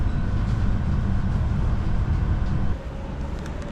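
A heavy, steady train rumble on rails in Poland fills the space, loud and continuous, easing to a quieter roll near the end.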